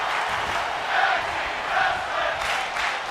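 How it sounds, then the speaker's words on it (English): A crowd of wrestling fans at an LCW WarZone show cheers and shouts steadily, with swells of louder yelling rising and falling across the arena. "And the fans cheering on Franks and Orochi"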